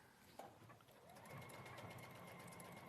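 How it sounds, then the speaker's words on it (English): A sewing machine stitches elastic into flat-laid fabric with a steady, quiet, close mechanical whir that holds constant for the whole stretch. "Okay, so we sew that in."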